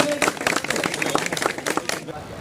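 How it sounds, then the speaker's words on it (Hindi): Short burst of clapping for a child at a school event in a Moradabad inter college, several hands clapping unevenly and close by with some crowd noise. "भाई तालियां बजा करके बच्चे को।"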